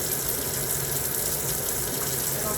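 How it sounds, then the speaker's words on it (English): Water from a pot of cooked pasta noodles pours and gushes steadily into a kitchen sink, a dense, close, continuous splashing rush with no voices. "I'm about to just drain the water off of them."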